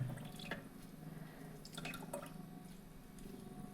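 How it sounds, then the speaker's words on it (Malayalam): Faint drips and trickles of lemon juice squeezed into water, soft and intermittent against a quiet background. "ഇതിനകത്തേക്ക് നമുക്ക് നാരങ്ങ ഒന്ന് പിഴിഞ്ഞൊഴിക്കാവേ"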